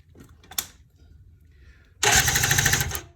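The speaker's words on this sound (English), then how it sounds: "you can come around and hit the starter button and see if there's a spark or not" A Polaris Predator 90 ATV being cranked on its electric starter during a spark test: a couple of faint clicks, then about a second of loud, rapid, whirring starter cranking up close.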